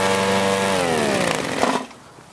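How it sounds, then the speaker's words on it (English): A lawn mower runs close and loud, its steady engine drone sagging slightly in pitch before cutting away to quiet. "How does it feel to mow the lawn?"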